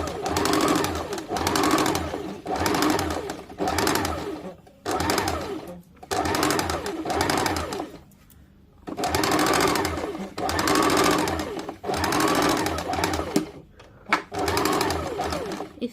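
A sewing machine runs a long seam on a kameez, stitching in steady loud runs broken by brief pauses, close and dominant, with little else heard.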